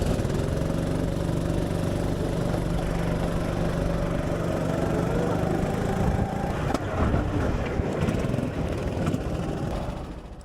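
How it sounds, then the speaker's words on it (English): Go-kart engines droning steadily at a go-kart track, a continuous buzzing motor roar with slight pitch shifts, fairly loud and unbroken, no speech heard. "they hosted their event at a go-kart track, which included free go-kart racing"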